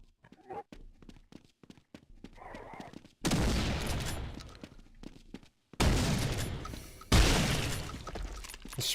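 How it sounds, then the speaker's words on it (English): Shotgun blasts in Half-Life, three loud close booming shots each followed by a decaying roar, preceded by softer scattered game noises and clicks. "The spread on this shotgun's so random."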